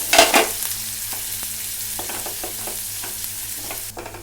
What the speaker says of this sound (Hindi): प्याज डालने के बाद इसको गैस को सिम करके स्लो फ्लेम पर, और मैं इसको हल्का पिंक करूँगी।